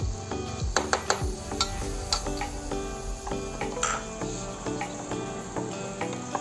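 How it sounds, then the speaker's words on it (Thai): Fried rice with bell pepper and carrot is stir-fried in a pan, steady sizzling with scattered clinks and scrapes of a utensil against the metal, moderately close and without talk. "ตอนนี้เขากำลังผัด มีพริกหยวกแครอทนะคะ"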